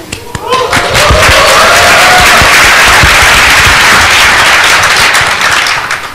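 Loud, sustained applause from a large developer conference audience welcoming a keynote guest, a thick wash of many clapping hands that swells and holds for several seconds.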